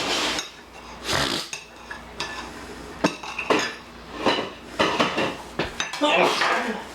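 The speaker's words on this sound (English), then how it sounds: "So I'm gonna cut it and have a taste." A knife scrapes and clinks against a plate while cutting slow cooker pork roast with gravy, irregular clatters and scrapes of metal on crockery at close range, with a few louder knocks.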